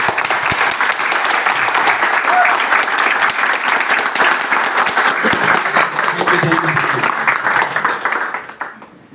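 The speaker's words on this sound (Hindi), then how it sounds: "एक बार तालियां बजाएं सर के लिए" Loud audience applause fills a business gathering hall, dense steady clapping from a large crowd, sustained for several seconds before tapering off at the end.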